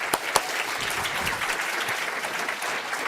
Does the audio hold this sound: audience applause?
yes